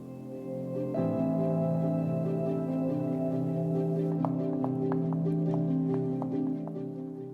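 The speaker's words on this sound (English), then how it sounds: "Remove the stalks from the shiitake and thinly slice." A knife thinly slices shiitake mushrooms on a cutting board, producing a rapid, even series of faint taps that start midway through, over steady background music.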